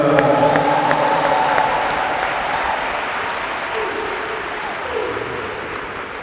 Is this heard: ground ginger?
no